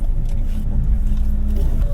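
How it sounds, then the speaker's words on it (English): Kia Carnival van in its top-of-the-line trim being driven, heard from inside as a steady low engine and road rumble that continues without pause at moderate loudness. "So let's take this van for a drive."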